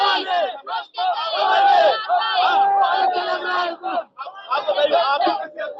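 Dense crowd of pilgrims at the Basant Panchami holy bathing fair, a loud, continuous babble of many voices with shouts and chanting rising over it, close by and briefly dipping before swelling again.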